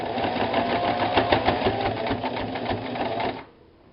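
Sewing machine stitching the hood edges of a fabric hoody, a steady close whirring hum with a rapid needle rhythm that runs for over three seconds and then stops abruptly.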